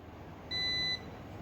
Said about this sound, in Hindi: तो यहाँ पे देखोगे तो इसमें बजर की साउंड आ गई है